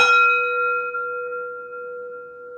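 A single bell or chime is struck once and rings out with a clear, sustained, slowly fading tone, heard alone and close.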